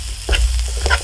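Scallops stirred in a hot pan with black garlic and Cajun seasoning: a brief, close sizzling scrape of stirring with two soft clatters, no talk.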